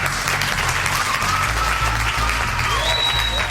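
Brief burst of studio applause honoring the late broadcaster Michel during a Brazilian radio talk show, dense clapping over a low background hum throughout.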